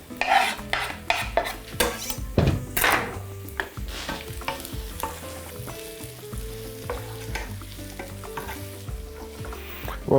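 Food sizzles and fries in a pan while being stirred, with scraping, clinking utensil strokes over a steady hiss, close and continuous for the whole stretch, during quiche pastry preparation.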